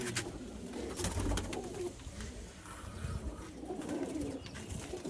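Pigeons coo softly and repeatedly amid rustling and faint fluttering, close by, with a steady, noisy background.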